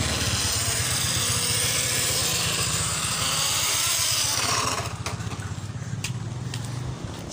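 An RC crawler on a brushless motor geared too fast runs with a continuous high-pitched electric whine and buzzing drivetrain, loud and close, easing slightly near the end.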